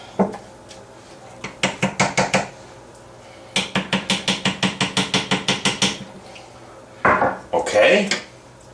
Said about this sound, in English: I'm going to give it a little mix just to get it all incorporated so far